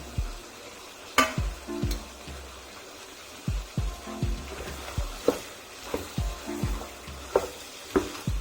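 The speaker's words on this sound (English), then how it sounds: "Stir it for a while" Pork stirred in a hot frying pan with spring onions and lime, a spatula scraping and knocking the pan in a steady series of close clicks over a faint sizzle, no talking.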